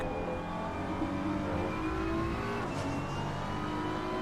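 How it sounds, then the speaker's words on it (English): A GT3 race car engine at Suzuka drones steadily at high revs on an out lap, a constant mechanical whine with a slight pitch shift near the end, heard from on board. "Look at the sound of the engine."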